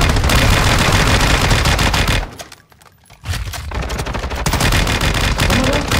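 Rapid automatic gunfire in a battle royale video game, loud and dense, breaks off briefly around the middle and then resumes at full intensity, with a faint voice in the mix.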